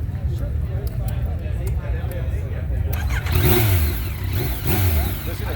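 A three-cylinder motorcycle engine idles with a low rumble, then revs up loudly in two or three throttle blips, close by, with people talking underneath at a motorcycle rally in Lake George, New York.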